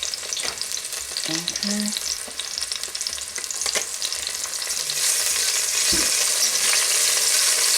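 Thinly sliced onions frying in a pan, a bright continuous sizzle that grows louder toward the end, with occasional stirring clicks and a brief spoken word.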